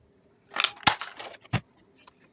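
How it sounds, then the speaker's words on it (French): A handheld paper punch cutting out two small truck shapes, giving a few sharp crunching clicks and snaps close by, with a separate snap after a short pause. "je perfore mes deux petits camions"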